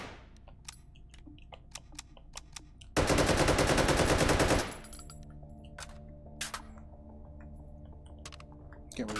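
A rapid burst of automatic gunfire from the VR shooting game Hot Dogs, Horseshoes & Hand Grenades lasts under two seconds, framed by scattered mechanical clicks and handling taps.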